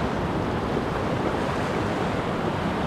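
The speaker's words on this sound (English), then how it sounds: "We got some fun rollers coming through" Steady, full-bodied roar of ocean surf at La Jolla, waves rushing and breaking continuously with a dense wash of noise and some wind, no voices.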